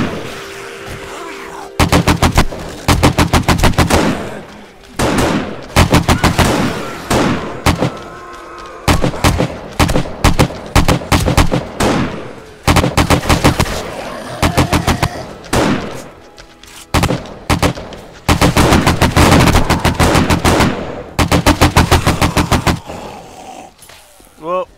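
Gunfire from weapons in the video game 7 Days to Die (Alpha 16) during a horde night, heard as loud, dense bursts of rapid shots broken by short pauses, with occasional voice sounds mixed in.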